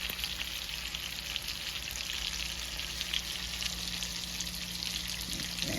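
Lamb chops browning in garlic butter in a pan, a continuous even sizzle with fine crackling and spitting at moderate loudness, steady throughout over a faint low hum, with no talking.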